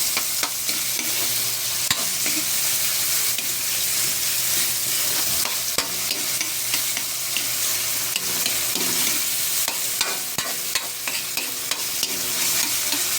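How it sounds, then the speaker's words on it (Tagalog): Tomatoes sauté in a pan for a Filipino mung bean soup, with a continuous close sizzle and frequent utensil scrapes and taps against the pan. "Niluluto-luto ng kamatis mga lods"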